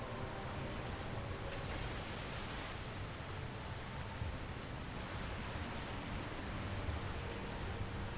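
Steady broadband rush of a waterfall in a valley in Star Trek Online, a constant even roar filling the whole span without pauses, moderately loud and with no voices over it.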